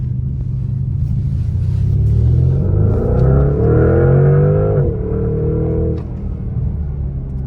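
A 2026 Porsche Panamera GTS engine rumbles from inside the car and climbs steadily in pitch as it accelerates hard, then eases off into a lower drone.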